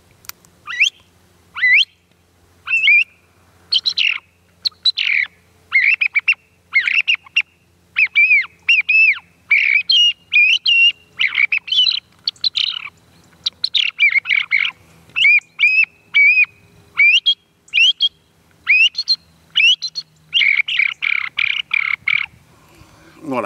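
A man whistles an imitation of song thrush birdsong: loud, bright repeated phrases, each note uttered several times in quick bursts, continuing steadily with short pauses between phrases.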